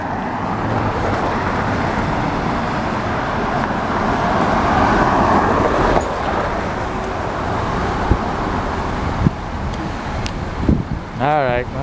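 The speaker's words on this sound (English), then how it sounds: "let's see the traffic coming this way now" Steady road traffic rolls past on a street in Haddonfield, New Jersey, a continuous roar of cars and buses with wind buffeting the microphone and a few brief clunks near the end.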